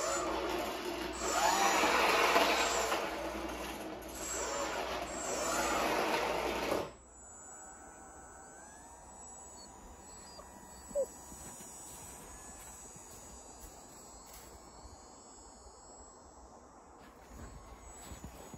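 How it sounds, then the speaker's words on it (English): A Guillow's Fairchild 24 RC model plane rolls on 3D-printed landing gear, then takes off. A loud, steady electric-motor buzz and hiss for about seven seconds cuts off abruptly, leaving a faint, distant drone with a short click partway through. "Here's just a bit of a run up to show you how it rolls on this 3D printed landing gear."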